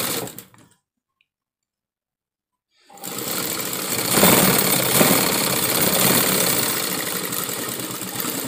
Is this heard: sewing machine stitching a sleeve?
yes